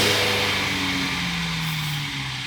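A BMW 4 Series engine with a rough, shaking idle held at raised revs, a loud steady drone whose pitch sags slightly as it eases off, heard close from inside the car.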